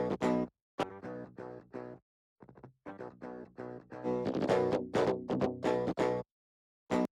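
Unprocessed DI electric guitar tracks with every effect bypassed play thin, dry choppy phrases in short bursts with abrupt silent gaps between them, heard alone without talk.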